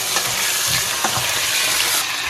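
Steady loud sizzling of food sautéing in a hot pan, with occasional stirring scrapes.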